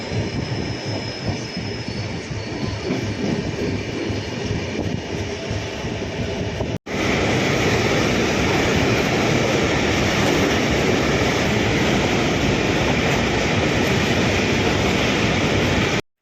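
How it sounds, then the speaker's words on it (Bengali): Express train on the Puri to Howrah run at Cuttack junction in Odisha: a steady loud rumble of rolling railcars, which cuts out briefly and returns heavier and denser, filling the clip with no voices. "এই মুহূর্তে আমাদের ট্রেন এসে পৌঁছেছে উড়িষ্যার কটক জংশন"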